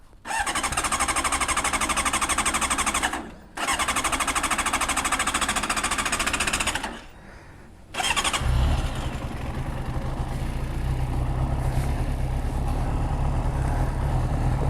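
Honda CBR600RR motorcycle, a wrecked bike being rebuilt, cranks and catches, then idles loud and close with a rough, uneven engine note after brief cutouts.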